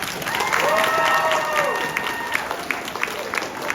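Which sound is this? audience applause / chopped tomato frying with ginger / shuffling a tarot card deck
audience applause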